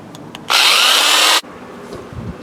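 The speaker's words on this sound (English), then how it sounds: "I'm probably going to have to drill this on the back side over here by the vise" A power drill bores through a Stratocaster pick guard near a vise, one loud continuous whine lasting about a second, starting and stopping abruptly, with quiet room noise before and after.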